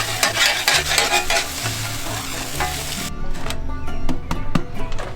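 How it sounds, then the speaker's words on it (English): A tortilla warms in a hot pan at a campsite in Grayson Highlands, giving a steady, close sizzle with brief scraping and stirring noises and no voices. "Warming up the tortilla."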